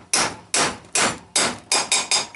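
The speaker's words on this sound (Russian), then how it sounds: "И таким же образом, как выпрессовывали, и запрессовываем, но теперь уже с помощью молотка." Six sharp, ringing hammer blows drive a part into a heated GAZ-53 engine cylinder head, evenly spaced at first and then quicker at the end, loud and close.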